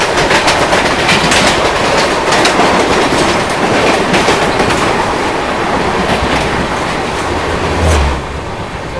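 The 12392 Delhi–Rajgir Shramjeevi Express rolls by at speed, a loud, continuous rumble with a rapid rhythmic clickety-clack of wheels over rail joints throughout.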